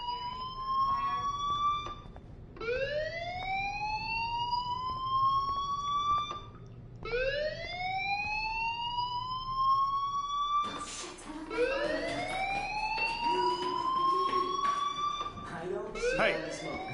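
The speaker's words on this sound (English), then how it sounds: "Hey, do you hear that fire alarm? That means you should be outside." A rising, wailing electronic alarm sweeps up repeatedly in a video game, each cycle climbing then cutting off, with a denser, overlapping burst near the end; voices talk beneath it.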